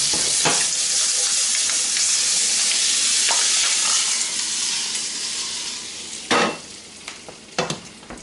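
Shrimp frying in a pan for a chorizo and shrimp burger, giving a steady, loud broadband sizzle throughout, with a few sharp scraping clicks from stirring near the end and no talking.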